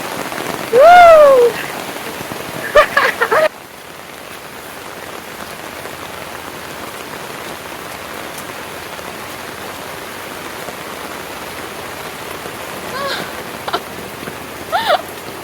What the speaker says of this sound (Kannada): ಹೆಂಗೆ ಮಳೆ ಮಸ್ತ್ ಸಾಕೌತ್ಲೆ ಜೋರ್ ಮಳೆ